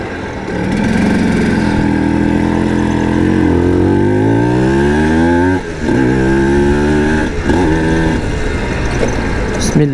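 Yamaha TZM motorcycle engine revving during a group ride, a loud continuous engine note rising and falling in pitch through several revs, close to the listener.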